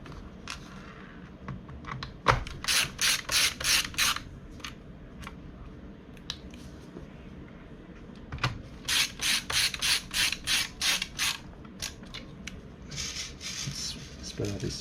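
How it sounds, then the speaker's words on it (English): Screws are driven back into an HP Pavilion G7-2270US laptop, producing two clustered bursts of rapid, close ratcheting clicks with light handling noise between them. "we will just put all of these screws back in"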